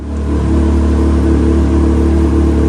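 A turbocharged Can-Am X3 engine running hard on a dyno, a steady loud mechanical drone with a strong low hum held throughout, no voices.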